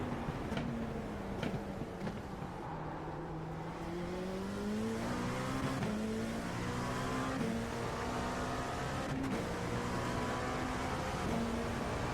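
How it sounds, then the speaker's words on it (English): The engine of an LMP2 prototype race car at Le Mans in iRacing drones steadily, its pitch climbing and resetting through upshifts as it bumps the rev limiter, with no other sounds present. "stop hitting the rev limiter though when I'm shifting up"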